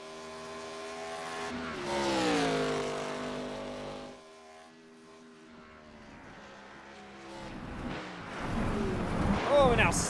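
Race cars lapping Road Atlanta in a racing video game, engine notes rising and falling as cars pass, a loud pitch sweep early, a quieter lull, then more engines building near the end, under commentary.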